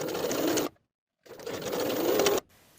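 A sewing machine runs a straight stitch along the short edges of a knit cardigan neckband with a half-inch seam allowance: two steady whirring runs, close and clear, separated by a brief silent pause.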